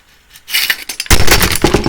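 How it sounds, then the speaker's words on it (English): An AR-15 bolt carrier drops onto a computer keyboard, giving a sharp metallic clatter of keys and metal, loud and close, with a burst of rattling hits lasting about a second. "I just dropped my bolt carrier on my keyboard."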